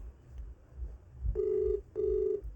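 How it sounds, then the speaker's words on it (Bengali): A telephone ringback tone on an outgoing call sounds in two steady half-second buzzes separated by a short gap, clear and close over a faint low background hum. "রিং হচ্ছে।"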